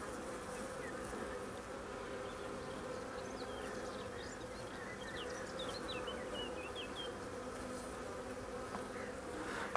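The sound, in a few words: honeybees buzzing on a hive frame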